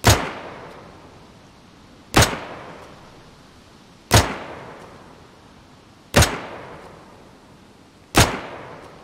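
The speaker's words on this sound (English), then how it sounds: "This is unsuppressed, single fire." An unsuppressed M16 rifle in the DayZ video game fires five single shots at an even pace about two seconds apart. Each crack is loud and sharp, with a short ringing tail before the next shot.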